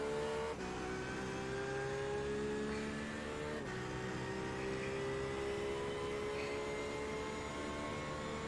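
A racing car engine in a racing video game drones steadily and loudly, pitch gliding down at two gear shifts, with another car close behind.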